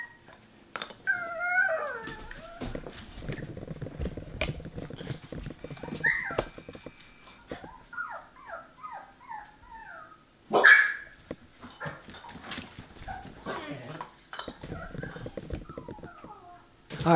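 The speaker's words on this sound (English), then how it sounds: "the next set of sounds are cute puppy noises" A compilation of cute puppy noises played aloud, with high whimpers, yips and short barks in a rapid series and one louder burst midway, while dogs listen nearby.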